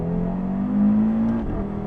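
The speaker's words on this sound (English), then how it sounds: "I'll change it in manual mode on the paddle shifts now" Heard from inside the cabin, an Audi RS3 Sedan pulls hard in manual mode with paddle shifts, its engine drone climbing steadily before a quick shift drops the pitch near the end.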